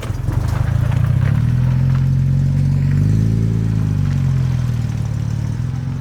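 A 1956 Jaguar XK 140 Roadster engine runs steadily while driving, a loud, low throaty drone with a slight rise and fall in pitch as it pulls along, heard alone and close.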